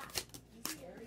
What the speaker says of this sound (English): One more shuffle for single Sagittarius.